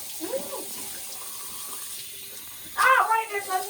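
Warm tap water runs steadily into a sink for face washing, a soft continuous splash that grows louder and gushier near the end, with a person talking over it.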